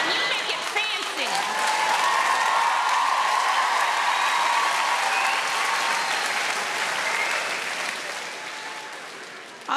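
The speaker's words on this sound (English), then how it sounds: "All those women clapping, they meant yours." A live comedy audience at the Apollo applauding, dense sustained clapping with cheers and whoops swelling together, fairly loud, then tapering off slightly toward the end.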